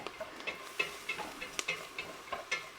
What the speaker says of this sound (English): I'm keeping it moving around because I'm getting these onions and celery all coated with that flour as it's cooking